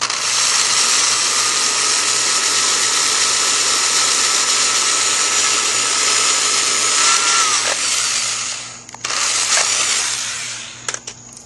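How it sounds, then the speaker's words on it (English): A power drill with a 3/16 bit bores a hole through part of a homemade automotive fluid pump, whining steadily and loudly for about eight seconds before winding down, followed by a few short bursts and clicks. "and drill your hole in here."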